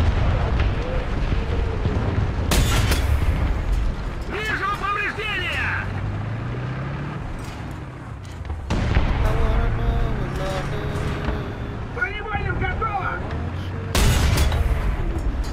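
A tank gun fires in a PlayStation video game, with three heavy booming blasts spaced several seconds apart over a continuous rumble, while a person talks throughout.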